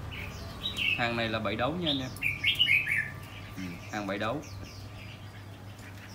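A three-month-old young caged songbird gives sharp chirps and squawky calls at close range, scattered through the clip and partly overlapping someone talking.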